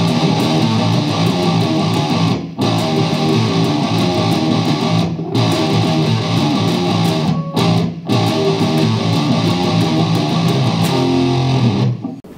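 Distorted electric guitar riff played loud and dense with the band, broken by several quick stab stops where everything cuts out abruptly before slamming back in; no talking.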